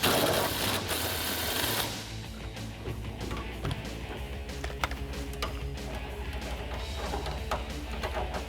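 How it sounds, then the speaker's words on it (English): Impact gun fitted with an 8mm socket working a sway bar nut on a 2012-2018 RAM 1500 during a suspension lift install, a rapid rattling mechanical hammering that runs steadily after a brief louder burst. "We'll take my 18mm wrench and my gun with an 8mm on it. And I'm going to put this on here and remove our nut."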